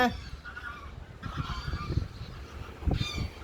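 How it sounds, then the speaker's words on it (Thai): Several geese honk in short, agitated bursts at close range over a windy outdoor background during a snowstorm in Iceland, around -1°C. "ห่านก็มาแตกตื่นเลยเห็นไหมคะ"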